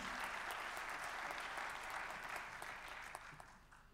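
Applause from the audience at the opening of a 2017 congress, a fairly faint, distant and even wash of clapping that slowly fades, with a few sharper individual claps near the end.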